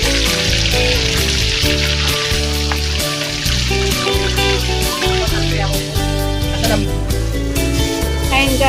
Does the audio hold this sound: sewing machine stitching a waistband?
no